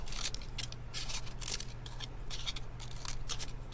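Scissors snipping paper for a craft cake: a quick series of close, crisp cutting clicks in an uneven rhythm, about a dozen snips over a faint low hum, and nobody talks.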